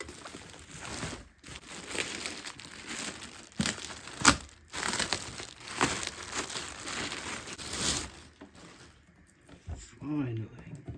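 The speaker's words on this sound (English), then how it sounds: "It's just packaging." Packaging from a cheap suitcase record player is pulled off and crumpled, with loud crinkling and tearing coming in bursts close by, then fading into a brief voice near the end.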